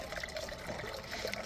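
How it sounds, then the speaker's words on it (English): A small waterfall at a chapel in Sedona, Arizona, trickling and splashing steadily, faint and close, with no voices. "I have this little waterfall."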